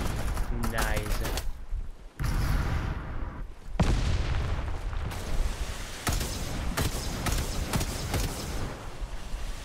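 Bombs from the video game Bugfall go off in a steady run of loud, booming blasts and crackling bursts, closely spaced for the whole stretch, with brief gaps between waves of explosions.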